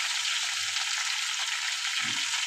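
Prawns frying in a pan, a steady broad hiss of oil sizzle with a brief low thump near the end, close and fairly even in loudness throughout.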